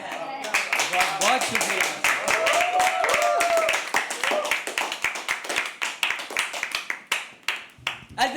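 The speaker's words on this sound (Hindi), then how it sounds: "अर्पित के लिए जोरदार तालियां दोस्तों," Audience clapping for a poet at a live open mic poetry night, steady rapid claps over a voice speaking, thinning into scattered claps toward the end.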